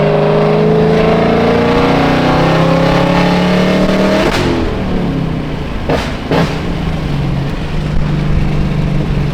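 Corvette Z06 engine revving loud and close, the steady drone rising in pitch for several seconds before letting off, followed by a couple of sharp exhaust pops and crackles as it settles back to a rumbling idle.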